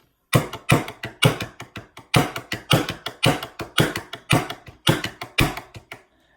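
Sharp wooden Korean drum strokes with alternating sticks in a quick, even rhythm, about three hits a second, played alone and close before stopping abruptly.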